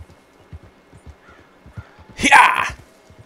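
A horse in Red Dead Redemption 2 trots with a steady clip-clop of hooves, then lets out a loud, shrill whinny near the end, close and clear over a quiet background.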